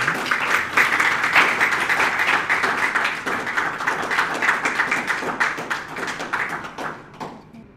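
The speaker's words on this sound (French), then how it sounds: "Gros applaudissements, bien évidemment" A crowd at a book launch gives the author a warm round of applause, many hands clapping in a steady wash with some sharper taps, tapering off and fading out at the close.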